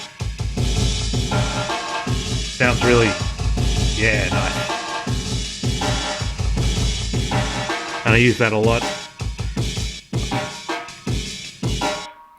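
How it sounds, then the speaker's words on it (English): Music run through an old rack-mount digital delay unit, with echoing repeats trailing the notes at steady loudness, and someone briefly speaking near the end. "it's going into my old rack mount digital delay machine"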